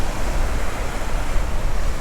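Ocean waves rolling slowly onto a sandy beach on Oahu's leeward side, a steady broadband wash of surf with soft low rumble, continuous and fairly loud throughout, no voices.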